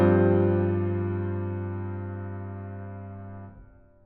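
An orchestral chord voiced for horns and woodwinds, with clarinet, oboe and flute families, sustains as one full, low-weighted chord for about three and a half seconds before cutting off into a short tail.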